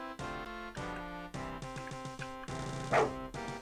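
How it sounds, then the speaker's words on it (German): Dog barks in an RPG Maker video game, a brief yelp near the end cutting through steady, continuous game music with sustained tonal notes. "Bist ein feiner Hund."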